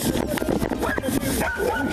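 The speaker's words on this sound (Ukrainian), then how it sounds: "П'яний чоловік іще й нацькував свого пса на копів." A dog set on police by a drunk man barks and whimpers in agitated bursts, loud and close, mixed with voices and commotion throughout.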